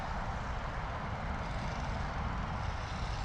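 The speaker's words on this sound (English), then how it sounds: "A320neo from Lufthansa coming in from Munich" A Lufthansa Airbus A320neo from Munich on landing approach at London Heathrow Airport gives a steady, faint low engine rumble and broadband roar, held constant throughout with no voices.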